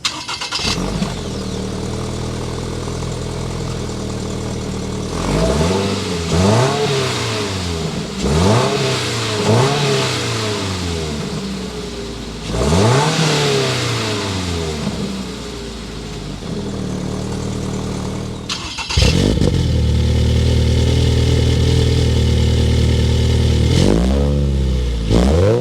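A Toyota GR86 engine revs repeatedly through a catback exhaust, with rising and falling sweeps, loud and close with no talk, ending in a sustained higher-pitched rev.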